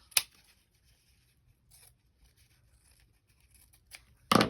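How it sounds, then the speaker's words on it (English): A few sharp snips of scissors cutting through fabric material, close and isolated, separated by quiet pauses with light rustling. "you could cut this, take the wire out of it, just cut it out"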